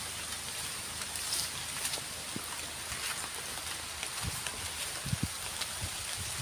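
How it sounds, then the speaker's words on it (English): Steady rain pours down around a shelter, a continuous broadband hiss with occasional closer drips and thuds landing nearby. "it's raining, so I'm stood under here and I'm actually getting a little bit wet"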